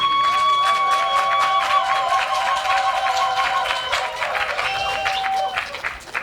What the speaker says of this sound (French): que je vous demande encore une fois d'applaudir.